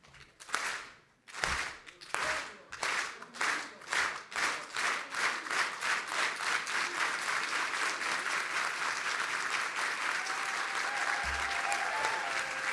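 An audience at a gala stands and claps together, starting with a few separate loud claps, then settling into a slow, rhythmic unison beat that gradually blends into sustained applause.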